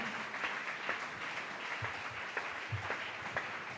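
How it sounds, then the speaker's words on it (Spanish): Congregation applauding in a church, steady dense clapping from many hands sustained throughout with no pauses, moderately loud and without talk. "Dale ese aplauso al Señor"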